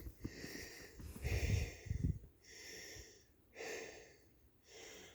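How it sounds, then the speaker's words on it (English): Slow, heavy breaths rasp in and out close to the microphone, several wheezy cycles in a row with no talking. "Sorry for the heavy breathing."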